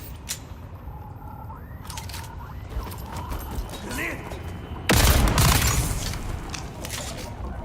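Gunfire in the video game Dune Awakening, a burst of loud shots crashing in at mid-clip over steady game ambience, with a voice talking earlier.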